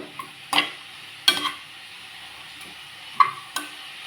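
Vegetables being sautéed in a pan: a faint sizzle under a handful of sharp scraping stirs and clinks, spaced irregularly and close.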